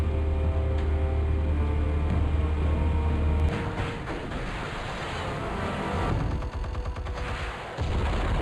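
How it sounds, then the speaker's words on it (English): Explosive charges fire in the Batman Telltale Series game at the Skyline Club, a steady low roar breaking at about 3.5 seconds into a burst of crackling blasts and rumbling debris that continues loudly, with no talk. "Explosives armed. Fire when ready."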